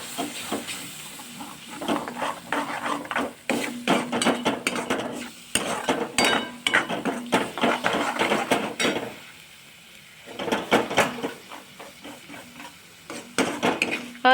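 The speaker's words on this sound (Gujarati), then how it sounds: "હવે આપણે બધું જ મિક્સ કરી દઈશું" Onion and tomato puree gravy stirred in a pan for restaurant-style malai kofta, with repeated scraping and clinking of a spoon against the pan over a soft sizzle, close and steady, pausing briefly midway.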